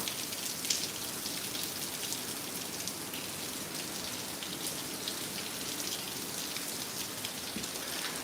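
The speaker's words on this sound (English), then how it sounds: "Rain, rain. Rain, rain." Steady rain falls outside, a dense, even hiss of drops on surfaces, soft and constant without any talk.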